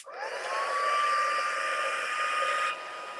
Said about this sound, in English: let's heat this up. We're going to cook the powder.